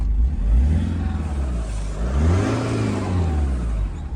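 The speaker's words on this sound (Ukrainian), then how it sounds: "Як ми бачимо, автомобіль вже запущено" A 2001 Hyundai Santa Fe engine runs close by, its rumble rising and falling as it revs up and settles back.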